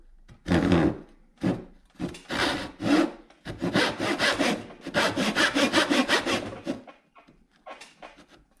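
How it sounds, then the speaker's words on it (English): A brand-new, fairly sharp hand saw, not yet waxed, cuts through wood in a workshop with close, rhythmic back-and-forth strokes, some short and some quick and steady, and a few quiet pauses between. "got a new saw in the mail today, so we'll give this a go."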